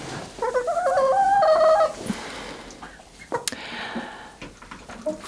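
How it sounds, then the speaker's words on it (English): Farmyard poultry on an off-grid Swedish farm, a close burst of bird calls in the first two seconds followed by scattered clucks, rustling and small knocks. "So I have chickens."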